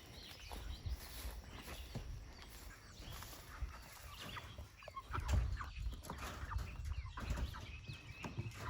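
Chickens cluck and murmur softly at a distance amid a busy, noisy outdoor background, scattered calls rather than any single clear one.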